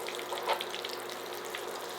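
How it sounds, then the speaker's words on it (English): Hot Cheetos mozzarella sticks frying in hot oil give a soft, continuous crackling sizzle with scattered small pops, close and fairly quiet, with no talking. "That sizzling sound is divine."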